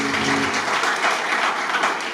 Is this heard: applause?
yes